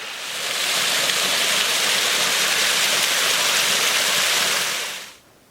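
A waterfall on a snowy trail roars in a steady, dense wash of rushing water, loud and unbroken for about five seconds before cutting off abruptly.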